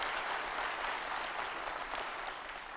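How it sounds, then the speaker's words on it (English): Baptist church congregation gives Brother Jerry Vitito a round of applause, a broad, steady roar of clapping from a large crowd, sustained and even, fading slightly at the end. "I think he deserves a round of applause"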